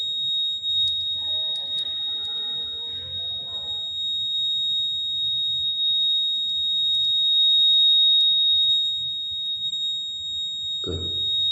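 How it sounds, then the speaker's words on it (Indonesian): The buzzer alarm of a password-based access lock prototype sounds after a wrong password is entered, a steady, piercing electronic tone that holds continuously for the whole stretch, with a brief thump near the end. "Jadi sekali lagi salah maka buzzer akan berbunyi."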